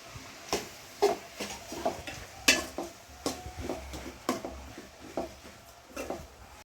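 Onions, shallots and chopped tomatoes being sautéed in a pan for beef curry, heard as a series of spoon scrapes and knocks against the pan at close range, with a light background sizzle between strokes.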